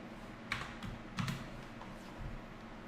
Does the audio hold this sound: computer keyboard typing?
yes